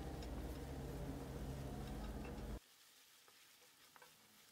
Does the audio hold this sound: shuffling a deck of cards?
no